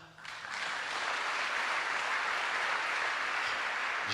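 A church congregation applauding after a singer, a dense wash of clapping that swells in over the first half second and then holds steady and moderately loud to the end.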